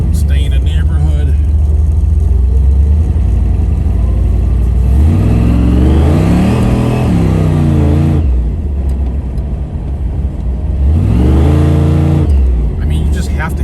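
Supercharged engine of a 1984 Chevrolet Camaro revving hard on a neighborhood street, two loud, close throttle bursts whose pitch climbs and falls, over a steady engine drone and road noise.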